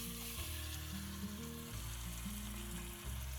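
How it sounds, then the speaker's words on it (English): Lamb frying in hot oil for a South African tomato stew, a steady close sizzle with crackle and occasional stirring, with no voices over it. "you hear that sizzle?"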